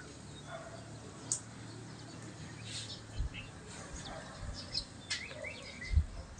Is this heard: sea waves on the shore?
no